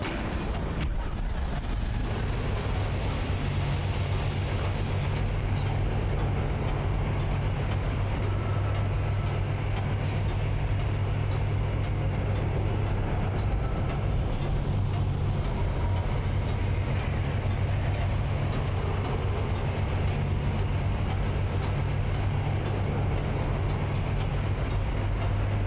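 In the sci-fi horror game Dead Space, a long elevator ride gives off a constant deep mechanical rumble and hum that drones steadily for the whole stretch, with no voices over it.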